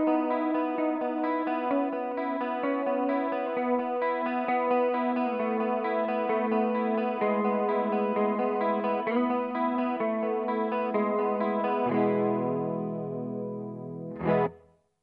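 Heavy, swirling chorus effect at full depth and rate on a Marshall Theatre Haze 40 combo guitar amp, with sustained, slightly distorted chords wobbling continuously for about twelve seconds before a low note and a final abrupt strum cut off.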